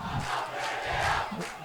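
Spectators at a schools rugby match between Isipathana College and Trinity College cheer and shout for Trinity near a five-metre scrum, a faint but continuous swell of massed voices from a distance.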